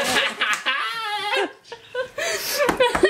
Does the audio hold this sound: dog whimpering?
yes